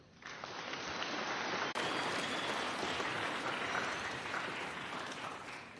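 An audience at a silver jubilee celebration for Benedictine monks gives sustained, dense applause in honour of Reverend Father Benedict OSB, steady and loud throughout with no pause.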